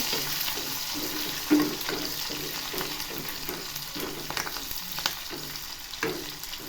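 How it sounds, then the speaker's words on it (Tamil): Onions and curry leaves fry steadily in hot oil, a continuous close sizzle with occasional louder crackles and pops, no voices. "எண்ணெய் வெங்காயம் நல்லா கோல்டன் ப்ரௌனாக வெந்துருச்சு"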